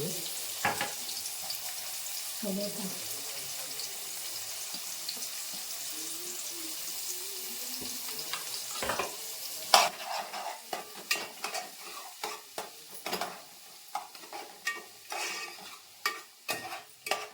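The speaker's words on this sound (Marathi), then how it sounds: "लालसर होईपर्यंत परतून घेऊया" Onions sauté in a pan for a chicken dish, a steady close sizzle at first, then repeated scraping stirs with a spoon in an uneven rhythm.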